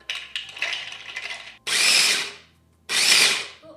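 Walnuts coarsely ground in an electric grinder: a rattling, uneven whir for a moment, then two loud, harsh buzzing pulses with a brief pause between, close up and with no talk.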